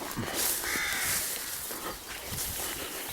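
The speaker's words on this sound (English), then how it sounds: "There's nesting crows. This is why they're so excitable." Nesting crows caw repeatedly at moderate distance, harsh calls scattered over a breezy outdoor background with no talking.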